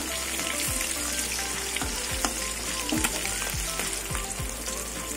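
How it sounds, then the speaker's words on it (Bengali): Rohu fish fries in oil, a loud, close sizzle crackling steadily, broken by repeated scraping strokes from stirring or turning, with no speech. "একদিকে মাছ ভাজা হয়ে গেছে"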